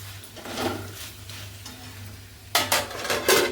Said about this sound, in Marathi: हा मसाला मिक्स करून घ्यायचा कढईला लागला नाही पाहिजे